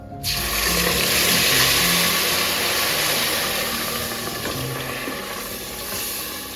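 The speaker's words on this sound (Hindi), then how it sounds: "अब इसमें डालूंगी मैं 1 गिलास पानी, क्योंकि सूजी जो है हमारी वो पानी ज़्यादा पीती है" A glass of water is poured into a hot pot for semolina halwa, setting off a loud, sustained hiss and sizzle that starts abruptly and slowly eases over several seconds.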